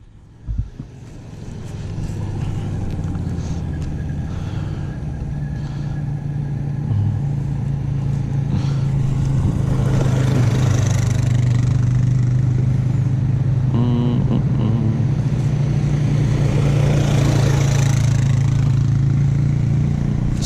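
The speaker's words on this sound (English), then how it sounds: "Go over there and do a little burnout" A Can-Am Outlander 1000 XMR ATV engine revs and holds a loud, sustained roar for a burnout, starting with a short clunk and then droning steadily close by with some rattling.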